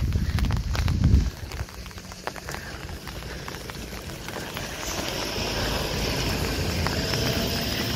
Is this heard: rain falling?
yes